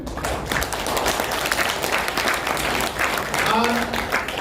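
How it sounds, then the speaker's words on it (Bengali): An audience at a Moringo Global launch event in Guwahati gives sustained, steady applause. The clapping is loud and lasts several seconds, with a voice briefly audible toward the end. "যদি ভালো লেগে থাকে একবার হাততালি দেবেন।"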